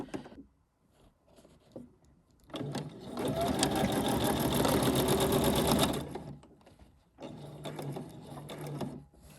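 A sewing machine stitches fabric while making regalia, running in a loud steady burst for about three seconds, then a quieter second run after a brief pause, with faint handling noise before.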